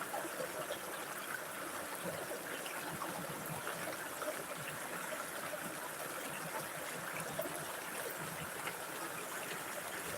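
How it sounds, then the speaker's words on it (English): River water flows in a steady, continuous rush at an outdoor riverside spot, a broad even wash of sound with no breaks, moderately loud and close, with no voices over it. "As long as that water isn't too loud."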